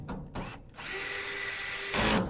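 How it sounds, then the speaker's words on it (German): A power drill drives a screw into a Santos BBQ Cart Pro during assembly. A short burst opens the clip, then one steady whine holds near and loud for about a second before a brief louder surge at the end. "Ganz entspannt die andere Schraube reinhauen"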